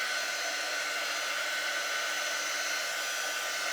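A heat tool dries ink on a printed shirt, blowing a steady, close, loud hiss and whir with no change throughout and no talking.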